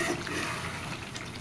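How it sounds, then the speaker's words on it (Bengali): Water poured steadily into a pan of braised chicken curry to make the gravy, a continuous close splashing pour lasting a moment. "এখন এর ভিতরে আমি দিয়ে দিলাম ঝোলের জল।"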